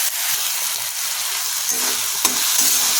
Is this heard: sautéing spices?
yes